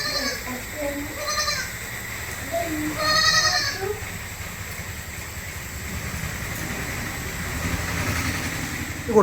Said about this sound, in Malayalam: പാല് കൊടുത്ത് വളർത്താൻ പറ്റിയ 2 മലബാരി കുട്ടികൾ.